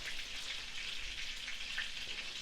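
Potatoes frying in a pan, with a steady close hiss and crackle of oil that carries on without a break.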